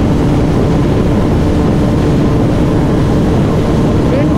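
Sports motorcycle, an R15M or Pulsar 220, roaring at high speed during a long road race, a loud continuous engine drone mixed with heavy wind rush.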